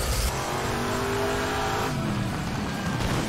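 A car drifting in the FlatOut 4 video game gives a continuous engine roar with shifting pitch and tire noise, loud and steady throughout.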